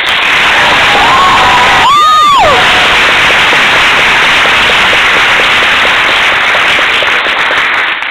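A high school audience cheers and applauds throughout. The crowd noise is loud and dense and runs continuously, with a brief whistling or whooping tone rising and falling near the start.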